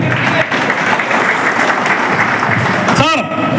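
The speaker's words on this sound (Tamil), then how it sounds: "அவருக்கு ஒரு கைத்தட்டல் கொடுங்க" Audience at a Rotary event gives a loud, dense round of clapping that holds steady, then cuts off near the end as a voice begins over it.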